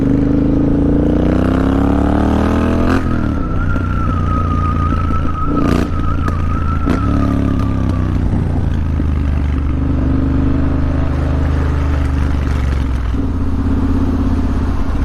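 A car accelerates past on a London street at night, heard from a motorbike, with a rising engine tone sweeping upward over steady low rumble and road noise, loud and close, no talking.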